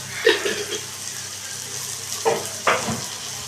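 Fish head and cabbage frying in ghee with garam masala, a soft steady sizzle with a few brief louder spits and stirring bursts, close by and without talk.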